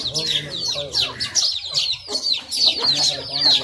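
Aseel chickens cluck and chatter busily at close range in quick, overlapping bursts, with a voice talking briefly underneath.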